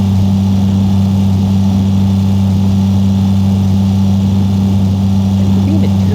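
A two-stroke vehicle engine runs in the driving game The Long Drive, a steady, close, low droning hum that holds an even pitch without pause for the whole stretch.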